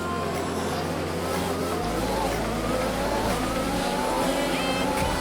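Formula 1 race car in the F1 2020 video game, including a Ferrari-powered car, with a continuous loud engine drone shifting pitch as the cars accelerate, heard close and without pause.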